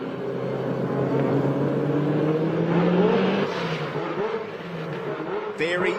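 A boxer-engine race car revs steadily with a rising and falling tone, loud and close, with a few brief higher-pitched whines near the end.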